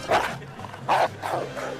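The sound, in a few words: police dog barking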